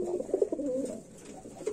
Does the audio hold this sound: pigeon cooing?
yes